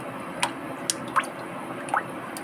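Semai custard mixture with custard powder and cornflour stirred in a pot on a stove, giving a few soft wet squishes and drips at irregular intervals over a faint steady background.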